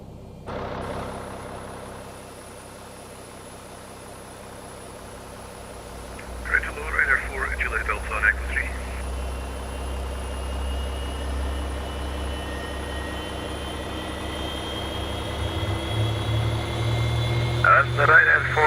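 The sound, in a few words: Boeing 737 engine number 2 starting in X-Plane 11 video game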